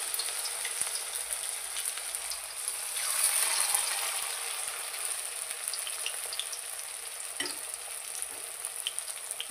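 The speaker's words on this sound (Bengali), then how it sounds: "ভাজবো, বড়া ভাজবো।" Pumpkin flower fritters frying in hot oil in a kadai, a steady close sizzle and crackle throughout, with a brief swell of bubbling and a few light taps of a spatula.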